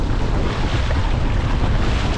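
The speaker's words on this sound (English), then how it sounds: "Boat starts to power up, takes off nicely, relatively flat." A Hobie Tandem Island sailboat powering up and taking off through the water, giving a steady, close rush of hull wash mixed with buffeting wind noise.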